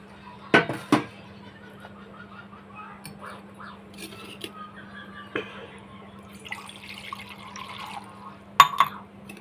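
A tumbler of water is poured in a home kitchen while a cold-remedy syrup is being made. Soft splashing and trickling fill the glass among scattered clinks and knocks of the glass, fairly close and quiet, with no speech.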